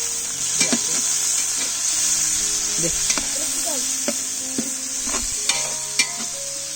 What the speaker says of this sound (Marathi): मस्त परतवून घेऊया हां टोमॅटो पण आण सगळं टाका अद्रक टॉमॅटो ग्रेव्ही बनवून घेऊया आता